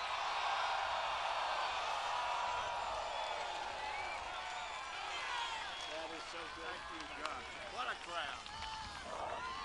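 A large crowd at a political rally, a loud continuous roar of cheering voices and clapping, with a voice speaking over it toward the end.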